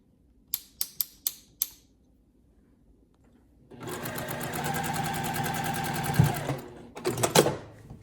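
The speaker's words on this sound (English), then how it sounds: "stitch the neck opening on a sewing machine" Several sharp clicks open the passage, then a sewing machine runs a straight stitch around the neck opening of a hoodie: a close, steady, rapid mechanical whirr lasting several seconds, ending in a few short uneven bursts.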